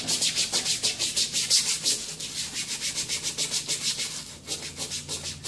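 A small scrub brush with Dawn dish soap works over a white wall tire in quick, even back-and-forth strokes, producing a loud rhythmic rasping scrub with no voices.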